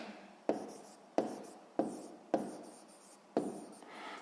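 Pen strokes writing a math answer on paper, five distinct scratchy bursts spaced roughly evenly, close and fairly quiet, with no talking.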